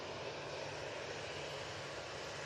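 A Ryanair airliner's jet engines drone from a distance as it takes off at Manchester Airport, a faint, steady broadband roar with a low hum and no voices.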